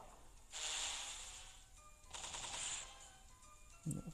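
DroneBeat firing a volley of bullets in the mobile game GunboundM, two rapid bursts of bright, rattling shots about two seconds apart, followed by a short thud at the end; fairly quiet overall.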